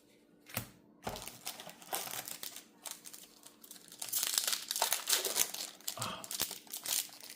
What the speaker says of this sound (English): It just sounds great when you're tearing into a pack.